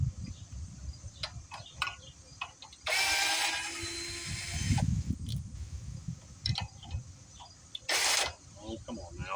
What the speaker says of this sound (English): Dang drill.